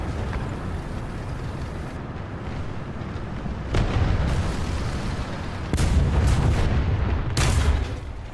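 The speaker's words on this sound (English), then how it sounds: "Is that our Panther shooting through there?" Tank cannon fire from a Panther in the War Thunder video game, heard as several heavy booms and muffled blasts spaced a few seconds apart over constant engine rumble.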